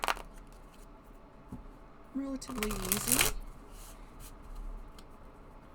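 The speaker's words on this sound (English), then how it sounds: "now we are going to shuffle the cards" An oracle deck in traditional tarot size is shuffled by hand, with a few quick riffling bursts of stiff cards in the middle of the clip. A person speaks softly around the shuffling.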